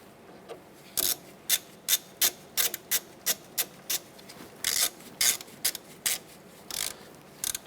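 A ratchet wrench snugs down bracket bolts during a wheel bearing replacement on a 2008-2012 Honda Accord, giving a quick, steady series of close, crisp clicks in short bursts.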